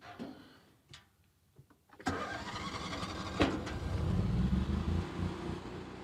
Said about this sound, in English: So that is as loud as this generator will be.